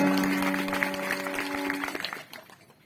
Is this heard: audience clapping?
yes